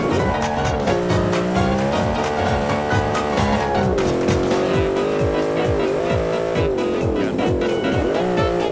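Tires on a homemade British-style sports car skid and squeal through a turn over a continuous, close engine drone that climbs and dips with throttle changes.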